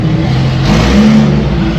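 A BMW GT3 car at a cars and coffee meet revs its engine loudly and close by in a single sustained rising growl, with no talking over it.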